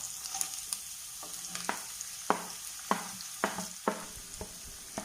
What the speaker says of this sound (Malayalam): ഇതിലേക്ക് അരിഞ്ഞു വെച്ചിരിക്കുന്ന സവാള ഇട്ട് കൊടുക്കും